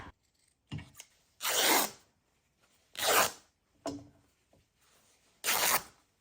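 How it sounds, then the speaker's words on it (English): A strip of material being torn by hand to form the base of a flower arrangement: three loud, close ripping bursts, each about half a second long, separated by quiet pauses and a few small rustles. "Let's tear a strip for the base."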